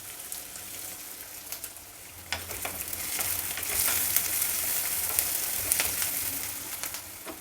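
Chopped onion frying in a pan for curry leaves rice bath, a steady close sizzle with stirring scrapes that grows louder and busier partway through, with no voices.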